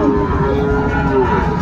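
A Sahiwal bull moos at a busy cattle market, a loud, drawn-out low call that carries over a steady crowd murmur and nearby voices.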